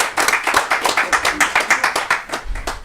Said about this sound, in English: So let's give her a special round of applause.